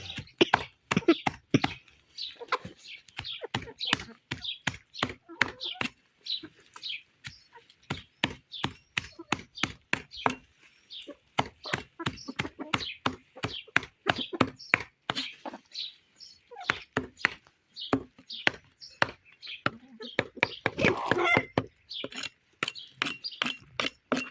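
Fresh greens being chopped for chickens near a coop, a long run of steady, sharp knife strikes on a board, close and fairly loud, with brief pauses between bursts and no talking.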